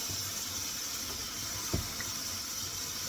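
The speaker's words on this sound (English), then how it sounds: "I'm going to wash this with some warm water" Warm water runs steadily from a tap over a tumbler being washed, a constant soft hiss with one brief knock partway through.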